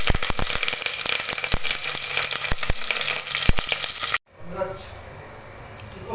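Tempering of mustard seeds, onion and curry leaves sizzling in hot oil, a steady bright crackle with scattered sharp pops for about four seconds, then cutting off abruptly to a quieter kitchen background.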